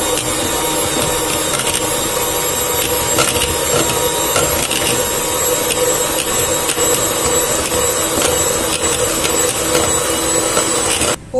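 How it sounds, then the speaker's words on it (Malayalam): An electric hand beater whirs steadily and loudly through a pudding mixture, a continuous motor drone that holds nearly unchanged for about eleven seconds before cutting off abruptly at the end. "നമുക്ക് ഇതും നല്ലോണം ബീറ്റ് ചെയ്ത്"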